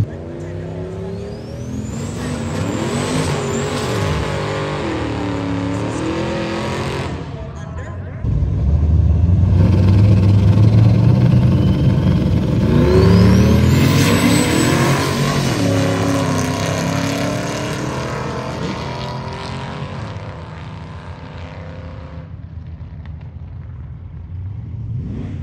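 A turbocharged LS-powered Chevy Nova drag car makes a drag racing pass, its engine roaring loud and close and climbing in pitch through the run. The noise surges midway, then fades, with voices audible around it.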